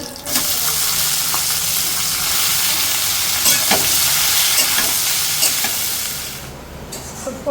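Fish and vegetables fry lightly in oil, giving a loud, close, steady sizzle with scattered stirring scrapes throughout, easing off near the end, with no voices.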